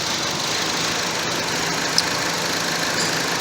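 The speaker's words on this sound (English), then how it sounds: "the engine's still running very poorly" A 2013 Chevrolet Cruze four-cylinder engine with a random misfire idles roughly, giving a steady, close rumble with a broad hiss, faint uneven pulses and one small knock partway through.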